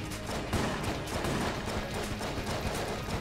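Pistol shots in Enter the Gungeon mixed with enemy gunfire, rapid repeated cracks in an uneven rhythm over dense, busy game noise, close and fairly loud throughout.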